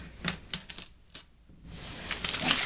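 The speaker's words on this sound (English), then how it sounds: "So this is dry enough now where I can take it off. So I'm just going to start to peel it." Vinyl being peeled off a wood sign, a few sharp crackling rips separated by short pauses, then a longer continuous tearing rustle building at the end; close and fairly quiet, no talking.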